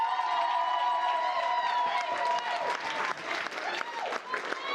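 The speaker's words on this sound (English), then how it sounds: "One round of applause for Kev to say a few words." Wedding guests applaud and cheer as Kev rises to give his speech, with clapping, whoops and crowd chatter. A sustained tone runs beneath at first, and the clapping grows more broken and scattered toward the end.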